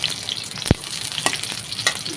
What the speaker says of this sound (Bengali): এখানে রসুন কুচি, পেঁয়াজ কুচি সব একসাথে দিয়ে দিলাম। লাল করে ভেজে নিব।